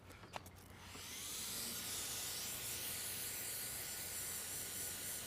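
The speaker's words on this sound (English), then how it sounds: "about 1196 PSI max coming out of this compact cordless pressure washer" After a couple of soft clicks, a Sun Joe 24V-X2-120 compact cordless pressure washer, about 1196 PSI max, starts spraying a car roof with a steady, loud hissing rush of water that continues without pause.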